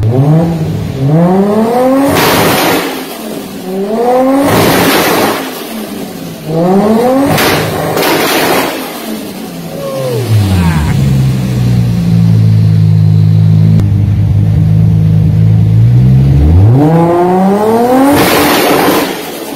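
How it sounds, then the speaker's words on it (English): Wide-body Toyota Supra with a TO4Z turbo making about 550 hp, revving hard in repeated rising bursts with anti-lag crackle, then holding a long steady high-rev drone before another climb; loud and close, with no talking. "The anti-lag on this car is a show anti-lag."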